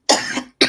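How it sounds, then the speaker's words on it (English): Two harsh, close coughs from one person: a long chesty burst, a short gap, then a second sharp cough, loud and with no talk over them. "let me send my cough over to you"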